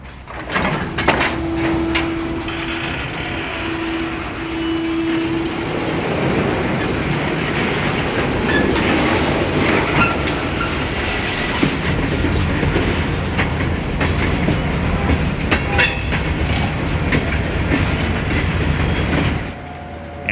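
A passenger train rumbles past loudly with steady clickety-clack from the wheels, a brief squeal early on, building as it moves off.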